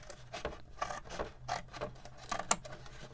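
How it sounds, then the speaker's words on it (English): Scissors snipping and rasping through paper and card from an upcycled junk journal, a steady run of short crisp cuts close to the mic with no talking. "So I'm gonna cut this open"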